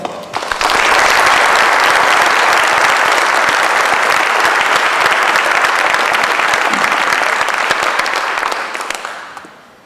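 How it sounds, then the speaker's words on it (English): Applause from a large crowd at a high school athletic hall of fame ceremony swells quickly, holds full and loud for several seconds, then tapers off. "please allow a round of applause for Sam Wild"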